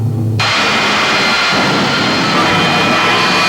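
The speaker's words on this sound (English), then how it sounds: "latest race car, his jet-powered dragster" TV Tommy Ivo's jet-powered dragster engine bursts into a loud, steady, roaring jet blast that holds at full power without a break.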